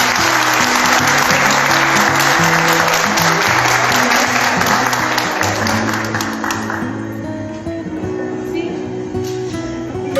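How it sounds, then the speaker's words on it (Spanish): Audience applause at a literary conversation event in Chile honoring two women guests, loud dense clapping that rings out steadily, then thins and fades in the final seconds while low music-like tones run beneath. "Así que un aplauso para ellas."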